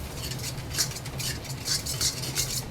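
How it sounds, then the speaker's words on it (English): A utensil stirs chow mein sauce in a pan over a high flame, giving repeated scraping and clinking strokes of metal against the pan at a steady rhythm, close and moderately loud, with a low burner rumble underneath. "Stir it until it gets thick or it reduces."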